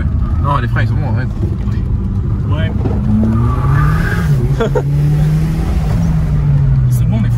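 A Peugeot 306 without ABS braking hard on a road, with loud sustained tire squeal and skidding over a droning engine, while people talk in the car.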